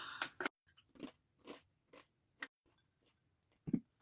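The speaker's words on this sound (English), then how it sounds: "You're chewing your chips." Potato chips being chewed close to the microphone, a series of sharp crisp crunches spaced roughly half a second apart in an otherwise quiet room.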